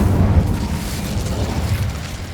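An Incendio fire spell blast from the Hogwarts Legacy video game makes a loud, roaring, rumbling whoosh of flame. It is close and sustained across the whole stretch, with no talking.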